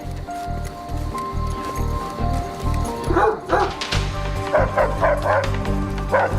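A tracking dog barks in short repeated bursts while searching outdoors, the barks sitting under a steady low rumble and mixed with faint whimpers.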